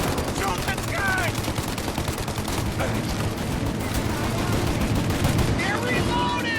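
Machine gun fire in Mafia Definitive Edition rattles in loud, sustained bursts of rapid shots during a shootout, with shouted voices cutting in over the gunfire.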